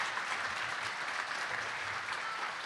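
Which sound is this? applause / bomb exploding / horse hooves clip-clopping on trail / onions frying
applause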